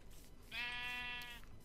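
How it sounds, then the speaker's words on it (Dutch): Sheep in the Minecraft video game giving a single drawn-out nasal bleat of about a second, clear and distinct over a quiet background. "Oh, ik hoor het schaap."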